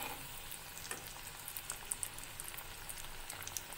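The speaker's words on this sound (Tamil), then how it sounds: "முடிஞ்ச வரைக்கும் மீடியம் ஃப்ளேம்லேயே வச்சு ஃப்ரை பண்ணிக்கோங்க, ஹையில் வைக்காதீங்க, சீக்கிரமாக கருகிப்போம்" Pieces of taro root fry in hot oil over a medium flame for a crispy taro 65 snack, giving a soft, continuous sizzle dotted with small crackles and pops, close but quiet.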